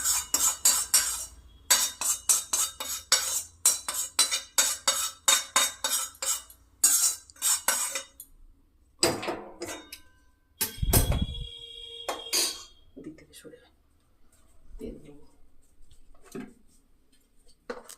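A metal utensil scrapes and clinks rapidly around a wok being cleaned out after cooking semolina, with bursts of busy scraping at first, then sparser knocks and clinks with pauses.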